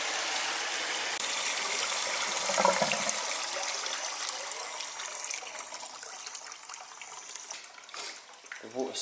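Water trickles and splashes softly while someone washes during a live Edinburgh Fringe stage performance, a faint continuous flow with a brief louder gush around the third second.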